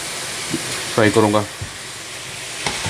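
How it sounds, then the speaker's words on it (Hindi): Chicken fries in a pan for chicken tikka masala, giving a steady close sizzle with a few faint stirring clicks and a brief voice partway through. "अभी मैं इसे मज़ीद और फ्राई करूँगा तकरीबन 3 से 4 मिनट।"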